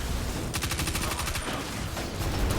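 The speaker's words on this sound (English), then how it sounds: "I love this little SMG." SMG gunfire in Destiny 2, a quick burst of rapid shots lasting about a second, set against busy game background noise, with a fainter short burst afterward.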